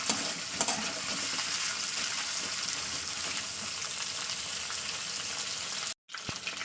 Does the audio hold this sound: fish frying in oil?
yes